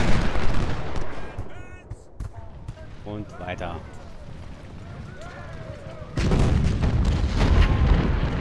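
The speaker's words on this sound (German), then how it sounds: "Von unten kommen irgendwo Kanonen." Cannon fire in Ultimate General: Civil War, a Civil War battle strategy game, booms repeatedly under steady battle noise while someone talks in German throughout.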